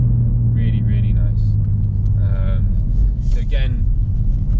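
A BMW G81 M3 Touring with a Remus OPF-back exhaust runs on the road, giving a steady, loud low rumble of engine and exhaust drone throughout, with a person talking over it.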